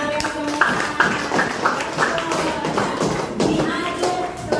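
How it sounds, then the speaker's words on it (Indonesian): Children in a classroom clap their hands in a quick, dense patter of taps that carries through the whole stretch, with a few young voices mixed in. "tepuk tangan buat kalian semua"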